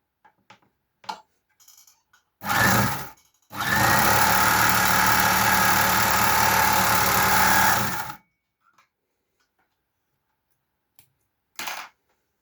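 Three-thread overlock sewing machine fitted with an industrial machine needle, running in a short burst and then a sustained run of about four and a half seconds, loud and close, with scattered clicks and handling noises around it.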